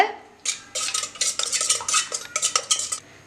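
Homemade nalungu maavu soap mixture being stirred in a bowl, giving a run of wet scraping and clinking strokes, close and fairly loud, in an uneven rhythm after a brief quiet start.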